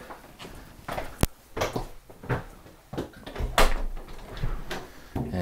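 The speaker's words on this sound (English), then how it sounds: "opening the first door" A door being opened while someone walks back toward a garage, heard as scattered handling clicks and thumps, including a sharp latch snap, mixed with footsteps and rustling at moderate distance.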